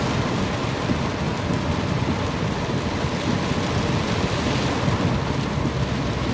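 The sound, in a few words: heavy rain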